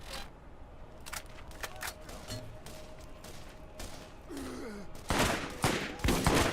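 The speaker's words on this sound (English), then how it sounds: "Is this like a super inaccurate gun?" Scattered gunshots from a wildly inaccurate gun in Borderlands crack out as sharp, irregular single reports and short clusters, growing louder and denser toward the end over faint game ambience.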